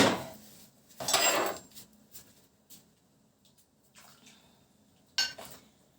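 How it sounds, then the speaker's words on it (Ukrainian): A splash of running water and clinking of a metal frying pan being rinsed, followed by scattered soft knocks and another brief gush of water. "Сковорідочку полоснути, знаєте, яка, щоб добріше було."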